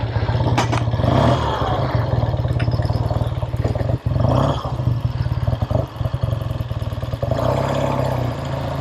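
A 1968 Triumph Daytona 500 motorcycle engine running close by with a rapid, pulsing twin-cylinder beat that revs and rises as the bike pulls away, loud and steady with brief dips between throttle blips.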